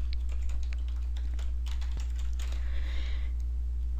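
Someone types store information on a computer keyboard, producing a close run of soft, irregular key clicks over a steady low hum.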